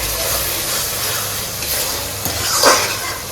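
Chicken curry with turmeric sautés in a pan, a close, steady sizzle broken by stirring scrapes, with a brief louder scrape near the end.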